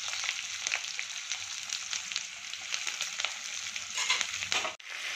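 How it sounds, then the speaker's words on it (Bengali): Two large onions frying in hot mustard oil in a kadhai for mutton kadhai, a loud, steady close sizzle with faint stirring scrapes, cut off briefly near the end. "তেলখিনি গৰম হৈ গৈছে, ইয়াতে ডাঙৰ চাইজৰ 2টা পিঁয়াজ দি দিছোঁ মই।"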